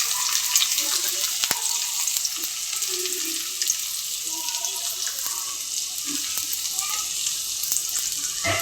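Chopped garlic sizzling in hot oil at the start of a Bangladeshi shutki (dried fish) curry with potato, beans and eggplant; a steady bright frying hiss runs throughout with a few faint knocks beneath, and no talk.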